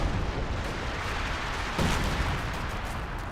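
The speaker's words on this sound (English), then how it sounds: "And we've got some major artillery being brought on in." A dense rumbling artillery barrage rolls on in Company of Heroes 2, a broad continuous roar of distant blasts with a heavier boom just before the two-second mark, loud and unbroken throughout.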